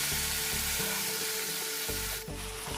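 Chopped white brinjals tipped into a hot pan over a low flame for brinjal rice, frying with a steady close sizzle and stirring scrapes, with a brief louder rustle near the end.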